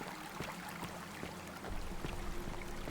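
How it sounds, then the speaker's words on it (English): Flowing stream water in the video game The Forgotten City, a steady close rushing and trickling wash that continues evenly throughout with no voices. "I like the sound of the water."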